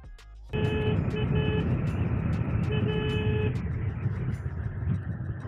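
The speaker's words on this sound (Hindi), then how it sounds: "और चचा हॉर्न दे रहे हैं" A car horn blares in a long steady blast over a dense roar of traffic on Marine Drive, then cuts off, leaving engine rumble and street noise.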